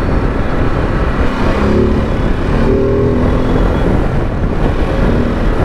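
A Ducati DesertX Rally adventure motorcycle pulls through traffic with a loud, continuous engine drone rising in pitch as the throttle opens, heavy wind rush masking much of the detail.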